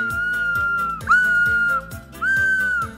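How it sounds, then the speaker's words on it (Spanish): A shrill whistle blown in two long blasts, loud and steady, over a bouncy rhythmic musical backing. "¿quieres ver cómo hago sonar mi silbato?"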